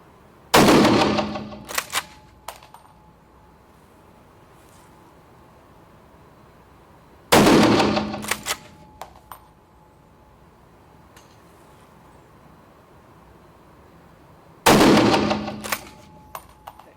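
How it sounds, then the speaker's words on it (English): Three loud rifle shots ring out in an indoor hunting range, evenly spaced about seven seconds apart, each a sharp crack with a short echoing tail and a few faint clicks of the rifle's action afterward. "3 good shots. Nice, successful shots."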